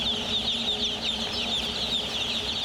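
A crowd of broiler chickens raised for frying fills a farm shed with constant overlapping clucks and chatter, a dense mid-distance chorus over a low mechanical hum.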